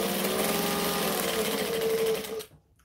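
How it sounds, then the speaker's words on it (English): A sewing machine basting fabric runs in one steady, close, loud mechanical whir with a rapid stitching rhythm, then stops abruptly near the end. "So I'm basting this down again"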